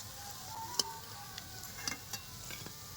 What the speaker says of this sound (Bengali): এই দেখুন আমার কি সুন্দর মুচমুচে চিড়ের চপটা ভাজা হয়ে গেছে